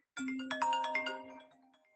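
A phone rings once in a room, a short bright electronic tone that starts suddenly, holds briefly and fades within about two seconds, clear and alone.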